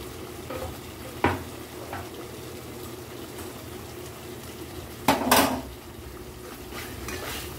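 Spice paste with tomato sauce sautéing in a pan for moong dal paneer curry, a soft steady sizzle under two sharp utensil knocks against the pan and light scraping, no talking.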